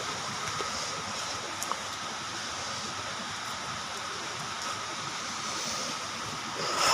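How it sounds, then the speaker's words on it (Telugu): Jodumamidi waterfall near Paderu, a steady broadband roar of rushing water that holds constant throughout, loud and close with no pauses. "చూస్తున్నారు కదా, ఇలా ఉందండి వాటర్ ఫాల్స్."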